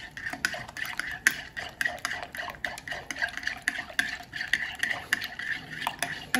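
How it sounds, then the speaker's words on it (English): Egg whites and shredded cheddar cheese being mixed in a bowl, heard as a rapid, regular series of close utensil scrapes and taps against the dish, with no voices. "And let's mix."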